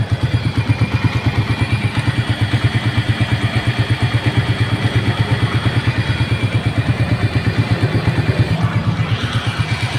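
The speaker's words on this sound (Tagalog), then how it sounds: "normal lang ba to sa inyo na yung makina ninyo ay parang may pumipito?" A motorcycle engine idles close up with a fast, steady mechanical pulse and faint clatter, a thin whistling tone riding above the throb throughout.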